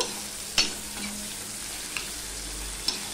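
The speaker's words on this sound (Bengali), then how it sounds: "এবার ফোড়নটা পেঁয়াজটা একটু লাল লাল করে ভেজে নেব।" Onion sizzling in hot oil with a spice tempering of dried red chilli, bay leaf and garam masala for mutton curry, a steady faint fry with a few sharp clicks of a stirring spoon.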